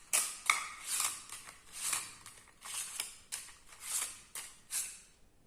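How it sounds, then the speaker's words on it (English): Lenormand cards being shuffled by hand, a run of crisp papery riffles and flicks in irregular bursts, close and fairly quiet with no talking. "These are my Lenormand cards, and I'll shuffle and pull."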